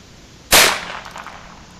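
A single sharp report from a SIG Sauer SP2022 pistol cracks loudly at close range, then rings and decays over about a second, with no further shots following.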